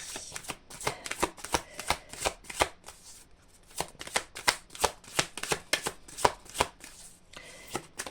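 Oracle cards being shuffled and drawn by hand, a quick run of crisp riffling snaps in rhythmic bursts, close and clear, with a short pause partway through.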